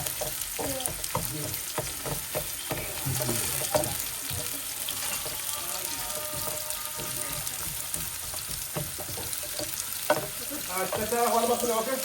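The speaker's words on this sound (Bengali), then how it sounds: "পেঁয়াজ লাল করে দিয়ে দিব" Onions frying in a pan until reddish-brown, a steady low sizzle with stirring clatter and scraping, with voices murmuring faintly in the background of a home kitchen.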